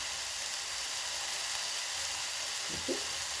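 Spice paste with about a spoonful of tomato sauce frying in oil for a tengra fish curry, a dense steady sizzle and hiss throughout, close and even, with a brief soft knock near the end.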